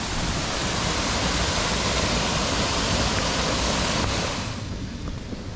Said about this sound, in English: That's a massive point for these waterfalls by Samaipata.